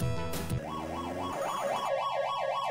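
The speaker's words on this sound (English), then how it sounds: "he goes away in an ambulance" Ambulance siren in the Street Smart arcade game, a synthesized wailing tone rising and falling in a fast regular cycle, loud and alone after a brief burst of game noise.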